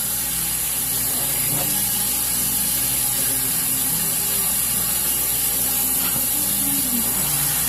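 Running water rinses shampoo out of long hair in a continuous loud, steady hiss with no pauses.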